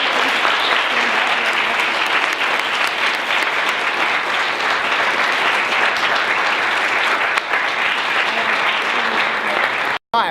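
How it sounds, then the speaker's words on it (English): Audience applause after a talk at an Emory University campus event: dense, steady clapping from a large crowd that fills the room at full volume, then cuts off abruptly near the end. "And another huge round of applause for both Karen and her mother."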